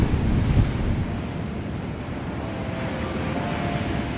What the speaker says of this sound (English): the waves still look pretty calm